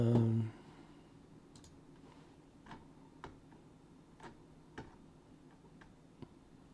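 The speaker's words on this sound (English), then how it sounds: "This is a lot of typing, right?" Keystrokes on a computer keyboard come through as sparse, separate clicks spaced about half a second apart, faint against a quiet room, with a short louder thump right at the start.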